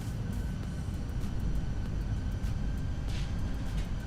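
A Fenix A320 airliner lands in the video game Microsoft Flight Simulator, with a loud, rumbling jet engine roar from reverse thrust that stays broad and steady throughout.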